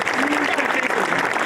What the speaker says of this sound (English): give these guys a round of applause again